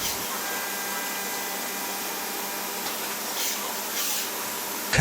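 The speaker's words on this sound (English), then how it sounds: "these computer-controlled machines enable FX to give you that brilliant finish to" Computer-controlled machines in an FX air rifle factory whir with a steady, loud, hissing drone that finishing blocks and components, slight swells near the end and no voices.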